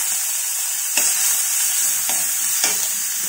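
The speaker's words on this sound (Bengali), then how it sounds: "তো প্রথমে পেঁয়াজ বাটাটা দিয়ে নিলাম।" Onion paste sizzles and fries steadily in a pan for katla fish curry, with a constant hiss and three brief scraping stirs spread across the clip; no one speaks.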